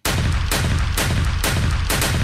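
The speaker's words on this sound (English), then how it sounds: "Shots fired." Gunshot sound effect: five loud, evenly spaced shots, each a sharp crack with a booming tail, fired one after another in a steady rhythm with no other sound.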